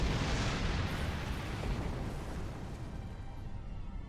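Torpedo impacts blow apart a Borg sphere in the Star Trek Online space game, a sustained loud rumbling explosion that roars at full strength and slowly tapers over several seconds.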